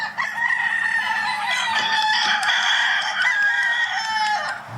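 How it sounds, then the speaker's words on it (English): A compound holding more than 200 roosters fills the air with overlapping crowing, loud and close, with long shrill calls that carry on continuously and layer over one another, plus some clucking. "There's over 200 roosters in this compound."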